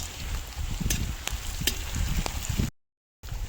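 Shrimp and onions sizzle and crackle in hot oil in a pan as they are stirred, giving a steady close frying hiss with a few sharp pops. The sound cuts out abruptly for a moment near the end, then comes back.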